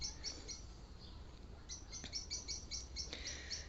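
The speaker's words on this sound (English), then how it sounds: "Oh, I've got starlings in audience too." Starlings gathered nearby in hopes of food chirp in quick bright bursts, a cluster of short calls near the start and a denser run toward the end, fairly faint outdoors.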